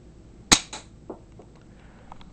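A K'nex break action toy shotgun fires once with a sharp, loud snap, followed by a few softer plastic clicks and rattles as the mechanism settles, close up with no talking.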